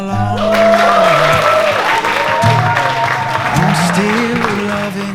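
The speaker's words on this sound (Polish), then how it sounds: "Wielkie brawa dla tej akcji, dla Was, że przyjechaliście" Loud crowd clapping at an outdoor youth festival, a dense wash of applause running throughout while amplified voices and tonal sound carry over it.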